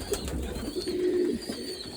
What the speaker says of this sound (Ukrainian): Наші голубенята, які перебувають в цьому боксі, вони вже повиростали.